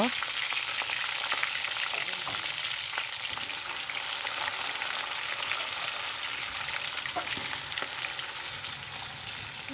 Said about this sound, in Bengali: এরপর চুলায় একটা কড়াই বসিয়ে দিলাম দিয়ে দিলাম তেল তেলের মধ্যে এগুলোকে আমি ভেজে নেব